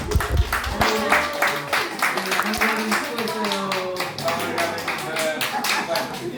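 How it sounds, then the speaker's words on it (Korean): Church congregation clapping together during an Easter service, a steady run of hand claps with voices and murmuring mixed in throughout. "박수 한번 드리시죠"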